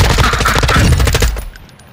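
Rapid automatic gunfire in a first-person shooter video game, a dense burst of loud shots for over a second that cuts off and leaves a faint tail.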